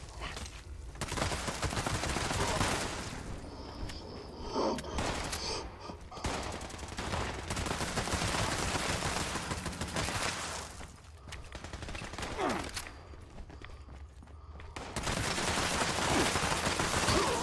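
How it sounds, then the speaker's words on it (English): Bursts of gunfire in Fallout 76, rapid fusillades and machine-gun volleys loud in the foreground, separated by brief lulls, with faint background game sound between the volleys. "That's a lazy piece of shooting I've done in a long time"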